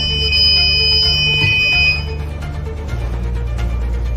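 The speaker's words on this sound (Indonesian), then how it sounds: "Jika kapal miring atau tekanan air naik, Arduino juga akan mengirimkan sinyal ke buzzer" Arduino-driven buzzer on a ship safety monitoring system sounding a steady warning tone, loud and close, with a low electrical hum underneath that continues after the tone drops.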